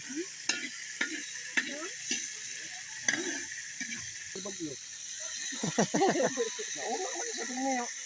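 Beef for Bohol-style kilawing baka being stirred and cooked in a pan, with scraping utensil strokes and a soft sizzle, fairly close, while a person talks over it.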